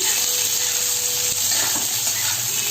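Onions fry in a pan over a medium flame for an Indian chicken kassa, giving a continuous, fairly loud sizzling hiss with no pauses.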